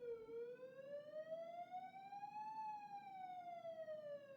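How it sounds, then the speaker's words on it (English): A wailing police siren from the video game Cataclysm: Dark Days Ahead sweeps slowly up in pitch and then down again, loud and continuous, with no talk over it. "I hear a police siren."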